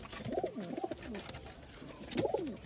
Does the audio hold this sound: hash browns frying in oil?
no